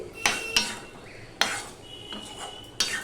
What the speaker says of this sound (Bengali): দু মিনিটের মতন আমি ডালটা দিয়ে কষিয়ে নিয়েছি